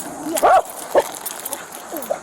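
A dog gives a few short, sharp barks and yelps beside a parkway during a state police rescue, close to the mic, with some voices and outdoor noise around it.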